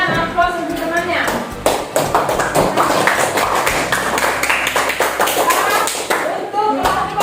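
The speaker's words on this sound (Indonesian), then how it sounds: "Yang sekarang berikan aplaus untuk temannya." Classroom applause for a classmate, a group of students clapping continuously for several seconds, close and loud, with voices mixed in.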